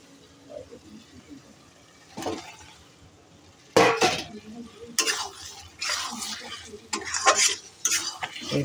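Eggs added to a pan of cooked-down masala and stirred with a spoon, giving a few sharp scraping and clinking bursts over a soft sizzle, starting quiet and becoming more frequent.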